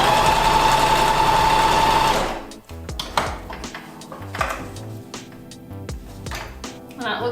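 A home sewing machine runs a test seam while setting up for a zippered pouch, first as a steady loud whirring hum, then stopping and giving way to clicks, clatter and handling noises nearby.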